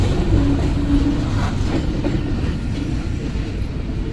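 A train rolls steadily past at close range, a loud continuous rumble with a faint clickety-clack of wheels on the rails and no speech.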